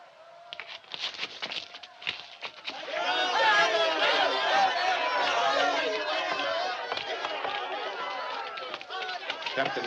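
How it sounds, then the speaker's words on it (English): An unruly crowd outside a police station builds from scattered voices into a loud, continuous roar of shouting and chatter, with running footsteps and bumps mixed throughout. "the crowd's getting pretty nasty out there"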